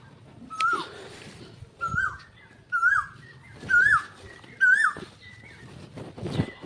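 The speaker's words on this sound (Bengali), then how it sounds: "সকাল ঘুম থেকে উঠে যদি বাগানে আসা যায় তাহলে এমন পাখির ডাক শোনা যায়" Birds call in a garden in the morning, with a series of five clear, whistled, rising-and-falling notes repeating at roughly one-second intervals, fairly close and distinct over a quiet outdoor background with faint rustling.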